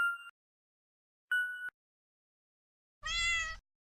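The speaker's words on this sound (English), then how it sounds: "He had actually planted a sample of his cat in the last stripe." A sampled cat's meow placed in a composition in the Zound music app sounds once near the end as a single harmonic, clear meow, after two short synthetic tones separated by silence.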